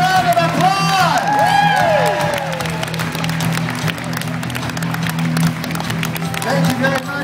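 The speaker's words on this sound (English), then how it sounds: "give her a round of applause!" Audience at a magic show applauds and cheers over a host's voice, with steady clapping and crowd noise throughout, while bright whistle-like effects sweep briefly near the start.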